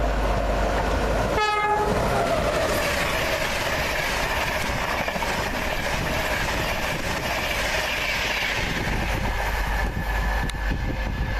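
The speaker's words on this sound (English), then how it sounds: "there's an EWS branded freight going across the Flat Diamond Crossing." An EWS freight train rumbles across a flat diamond railway crossing at Newark, with a short horn blast early on, then a steady heavy rolling drone of wagons throughout.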